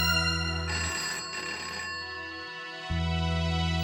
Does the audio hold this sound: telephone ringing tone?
yes